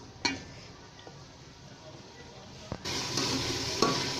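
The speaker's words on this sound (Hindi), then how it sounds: "ये फ्राई होंगे थोड़ी देर, 5 मिनट हम इनको फ्राई करके" Boiled green chickpeas fry in a pot with a low sizzle and a few stirring clinks, the sizzle swelling louder partway through.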